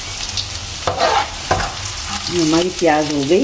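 Cumin seeds hitting hot oil in a pan with onions for a chhole recipe, giving sharp crackles and a short burst of sizzling, close and fairly loud, with someone speaking briefly over it.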